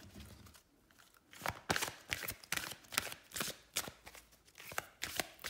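Tarot cards are shuffled by hand in a fast run of crisp riffling bursts, close and fairly quiet, with nobody speaking.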